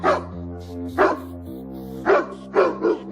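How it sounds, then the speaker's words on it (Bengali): An angry dog barking, five sharp barks in an uneven rhythm, loud and close over a steady tonal background. "কি ব্যাপার কুকুরটারও রেগে গেল মনে হচ্ছে"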